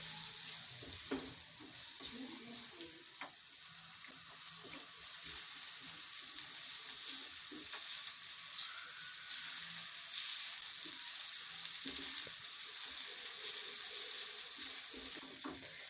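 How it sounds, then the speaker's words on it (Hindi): Onions fry in a pan for pizza sauce with a faint, steady sizzle and a few light scraping taps, quiet and continuous with no talk. "हमारे पास थोड़े से प्याज हैं, ये भी हम इसमें डाल देते हैं और इनको अच्छे तरीके से फ्राई कर लेते हैं"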